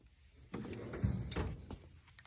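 A drawer beside a heat press slides open or shut in a quiet room, one soft rumbling glide lasting about a second and a half, with no voices.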